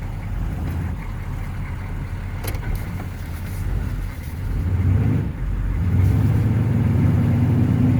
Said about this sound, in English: let's set her on the ground and take her for a ride